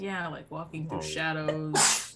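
A single sneeze bursts out near the end of a stretch of conversation, sharp and close, with people talking just before it.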